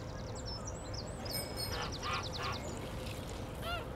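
Ducks quack in short, quiet bursts against a low background hum, mixed with thin chirping bird calls, all fairly faint and distant.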